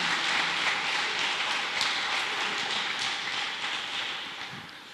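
Church congregation applauding during an evening worship service, a dense, steady wash of many hands clapping at moderate distance, easing off slightly toward the end with no speech over it.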